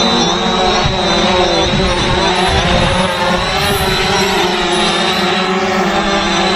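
FIMI X8 drone descending to land, its propellers producing a loud, steady, high-pitched buzzing whine that stays close and constant throughout, with no talking.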